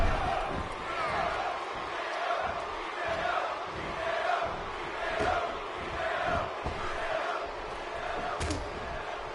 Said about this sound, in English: Now the crowd was chanting for Hideo.